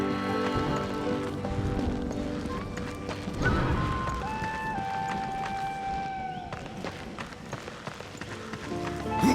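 A horse gallops in the video game Darksiders II, its hoofbeats a steady clip-clop running beneath music and ambient game sound throughout.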